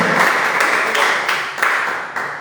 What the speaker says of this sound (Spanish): Démosle un aplauso al Señor de gozo, de alegría.